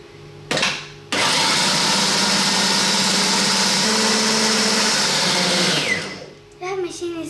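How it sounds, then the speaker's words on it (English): Loud, steady whirring roar of a food processor blending hummus with cold water, starting abruptly after a brief burst, running evenly for several seconds, then winding down; a voice speaks briefly at the end. "Now we're gonna put the machine on for 3 minutes."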